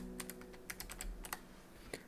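Rapid keystrokes on a computer keyboard, a burst of sharp clicks in an uneven rhythm over a low steady hum, close and fairly quiet with no talking.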